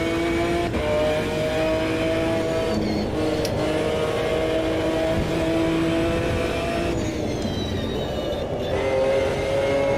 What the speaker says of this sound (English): enjoy the sound of the McLaren GT1 at Watkins Glen